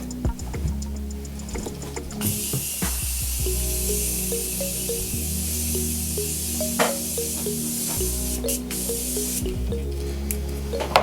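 A makeup setting spray bottle hisses in a long continuous mist close by, with small ticks and clicks around it, then a few shorter sprays near the end.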